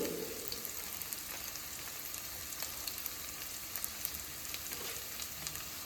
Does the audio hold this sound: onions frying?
yes